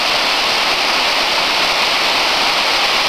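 A waterfall at Ferrera di Varese roars nearby, a loud, constant broadband rush of falling water with no breaks.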